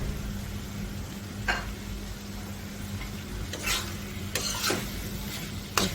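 Cut bitter gourd and chilli strips are tossed into pangas fish frying in a pan, with a steady sizzle, a low hum and several sharp scraping bursts of stirring.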